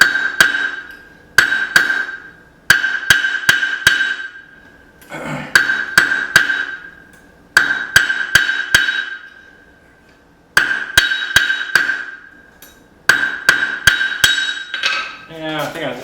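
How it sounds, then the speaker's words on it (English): A blacksmith hammers hot metal on the corner of an anvil, shaping a necklace hanger. Sharp ringing strikes land in quick bursts of four or five, separated by short pauses in which the bright metallic ring fades away. "I'm just back here using this corner of the anvil."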